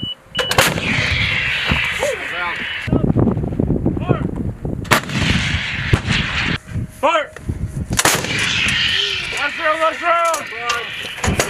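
M119 and M777 howitzers fire live rounds at a field artillery exercise: several loud, sharp booms roll out across open ground with long rumbling tails, while people shout commands between the shots.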